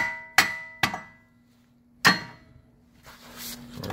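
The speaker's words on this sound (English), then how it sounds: "we're gonna hit it a little bit with the hammer because there's a lot of corrosion up in there" Three loud ringing metal clangs, two close together and a third after a pause, as a hammer strikes a corroded rear hub assembly on a 2006 Nissan Murano AWD, followed by a low hum and faint shuffling.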